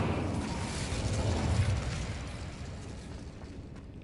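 An Incendio fire spell goes off in Hogwarts Legacy as a soft whooshing burst of flame that swells for about a second and a half, then fades into a low crackling tail. It is fairly quiet and sounds alone.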